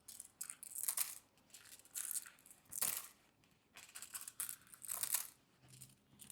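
Tarot cards are shuffled in repeated bursts of riffling and slapping, close and crisp, each burst separated by brief pauses.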